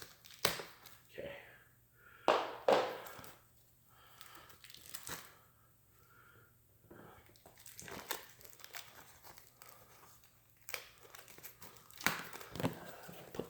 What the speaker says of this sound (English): Kind of removing the plastic.